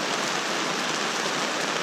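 A heavy rainstorm pours down steadily over open land, a dense, continuous hiss of rain with no letup, loud and close.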